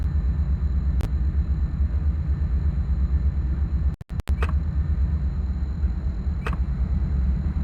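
A Dash 9 locomotive diesel engine works under throttle with a deep, continuous rumble that stays steady and loud, broken only by a few sharp clicks and a brief clatter near the middle.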